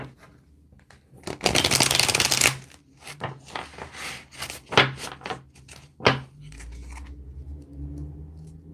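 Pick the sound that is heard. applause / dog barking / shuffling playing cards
shuffling playing cards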